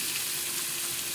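Crispy bagnet pork added to a pan of pinakbet vegetables sets off a steady, dense sizzle of frying oil, loud and continuous with no break.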